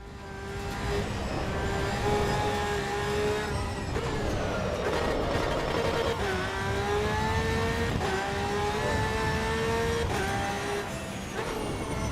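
Several race car engines in the video game Assetto Corsa EVO, at the Nürburgring, whine and rev at high pitch, shifting up and down as cars race past, with a steady mechanical drone underneath and no talking.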